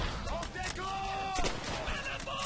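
Rapid bursts of automatic PPSh submachine gun fire in Call of Duty: World at War rattle through the game soundtrack, punctuated by sharp single shots and faint electronic tones.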